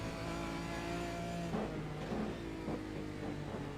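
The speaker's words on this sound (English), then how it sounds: "That car does not sound good." A damaged race car engine in a Legacy Sports Car Series race at Road America revs and sputters unevenly, with a rough, strained mid-pitched drone and a few harsh bursts, close and steady throughout.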